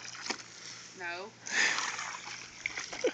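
Splashing in a backyard pool, a loud burst of churned water after a brief vocal sound, with smaller splashes following as people talk nearby.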